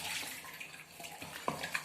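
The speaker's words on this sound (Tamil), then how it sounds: "இப்போ தண்ணி நம்ம ஊற்றுறோம்" Water is poured into a pot of fish curry, a soft continuous splashing and trickling with a few gentle plops, fairly close and fairly quiet.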